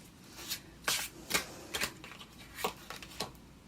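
Tarot cards shuffled by hand in about seven short, crisp riffling bursts at an uneven pace, close and fairly quiet, with no voice.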